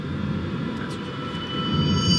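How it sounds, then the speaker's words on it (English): Jet aircraft engines hum on a runway before takeoff, a steady, fairly loud low drone with a faint high whine, heard from inside the cabin with no talking. "I'm sitting in a jet on a runway."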